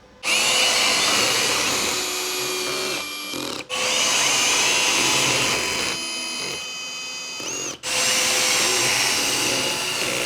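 A cordless drill in drive mode at its lightest clutch setting whirs steadily at high pitch in two long runs, each stopping briefly before starting again, close and loud with no talking.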